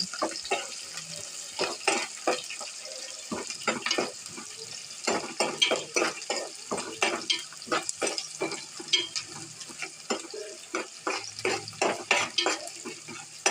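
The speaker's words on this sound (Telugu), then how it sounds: "ఉల్లిపాయలు వేగాలి కొంచెం రెడ్ కలర్ వచ్చేదాకా వేయించుకోవాలి" Small chopped onions fry and get stirred in a pan for a potato-tomato curry, giving a steady near sizzle with frequent scraping bursts and no talk.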